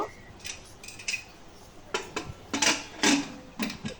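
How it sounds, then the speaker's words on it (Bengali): A metal pressure cooker lid is fitted on with a series of sharp clanks and scraping clicks, close and distinct, in quick irregular bursts with no talk. "পানি দিয়ে আমি এখন প্রেশার কুকারের ঢাকনাটা লাগিয়ে দেব"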